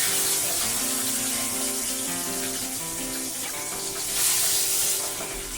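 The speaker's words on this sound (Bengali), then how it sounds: "তেল আমার গরম হয়ে গেছে, এবার এতে আমি এক এক করে মাছগুলোকে ছেড়ে দিচ্ছি" Soft pabda fish sizzle steadily in hot mustard oil in a pan, a close, continuous hiss and crackle with no talking.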